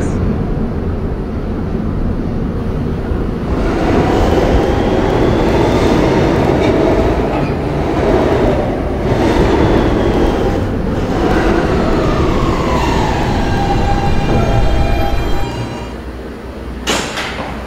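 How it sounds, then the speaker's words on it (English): A Siemens R160B subway train in a Roblox game runs steadily and loudly, with continuous rumbling, rail clatter and whining motor tones rising and falling throughout, easing slightly near the end. "This is a Ridgeworth Island bound Q Express train."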